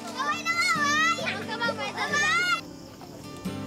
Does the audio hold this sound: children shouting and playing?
yes